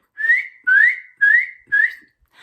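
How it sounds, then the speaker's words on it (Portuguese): A person whistles four short rising notes in a row with brief gaps between them, clear and close, with nothing else heard. "assobiar"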